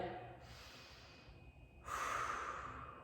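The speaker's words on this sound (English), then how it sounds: "we're taking big, deep breaths" Big, deep breaths during a squat warm-up pose: a long exhale followed by a brief pause and a stronger, airy inhale, close and quiet.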